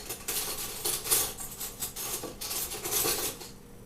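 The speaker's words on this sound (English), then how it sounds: "Those tomatoes smell great. Let's stir that up a little bit." Tomatoes are stirred in a pot at an outdoor barbecue cook-off, with a continuous run of metallic clinks and scrapes from a utensil against the pot, close and fairly loud.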